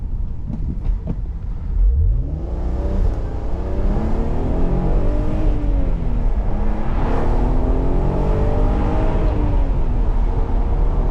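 Audi TT Roadster 3.2 V6 pulling hard on a straight road, engine and exhaust rising steadily in pitch through the revs, loud and continuous from inside the car.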